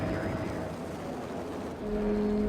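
A helicopter descends through a blizzard in Max Payne, its steady engine and rotor drone mixed with wind noise, rising into a louder low rumble with a tonal whine near the end.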